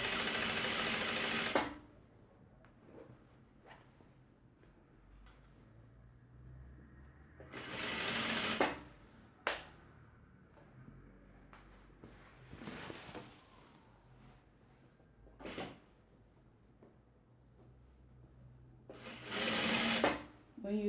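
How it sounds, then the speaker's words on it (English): Sewing machine stitching a tote bag with back stitches near the handles, loud whirring bursts at the start, around 8 seconds and at the end, with quieter short runs and soft talk in between. "When you get where your handles are, you back stitch."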